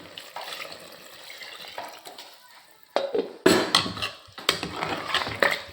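Water is poured into a mixer jar for mutton curry gravy, a splashing and gurgling stream that swells and fades in bursts, with knocks of the jar and pots nearby.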